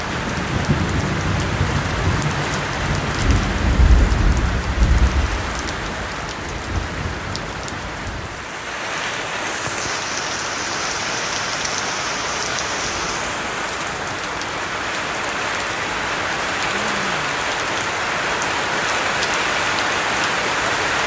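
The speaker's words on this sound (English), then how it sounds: "I'll show you a bit of the thunderstorms." Rain falls steadily during a thunderstorm, a continuous broadband hiss that holds at an even level throughout, with a brief low rumble near the start and no voices.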